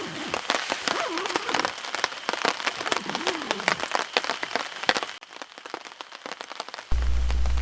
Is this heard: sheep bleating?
no